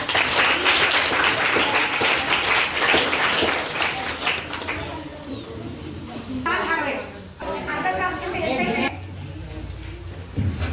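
Students in a classroom applaud loudly, a dense burst of clapping in the first few seconds that thins out and fades as other sounds take over later.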